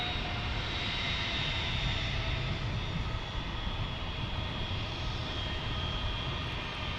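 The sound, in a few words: JetBlue airliner engines as it starts its takeoff roll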